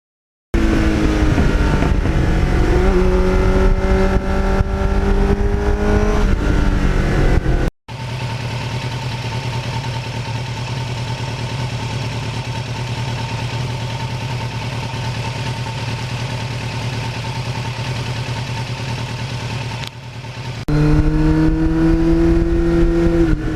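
A 1989 Kawasaki GPX750R sport bike engine runs through a Muzzy aftermarket muffler, loud and close, revving briefly at the start, then holding a steady drone before another short blip of throttle near the end.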